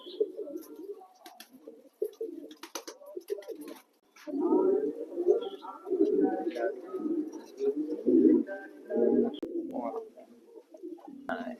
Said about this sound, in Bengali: এটা হলো ড্রাগন হোমার ব্ল্যাক মেল আর হলো চেকার ফিমেল